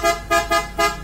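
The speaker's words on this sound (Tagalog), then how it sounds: "So testing mo natin yung horn mga boss" A PIAA superior bass horn fitted to a Nissan car sounds in four quick, loud honks in a steady rhythm, each a short blaring blast up close.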